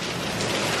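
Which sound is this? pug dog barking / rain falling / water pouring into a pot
rain falling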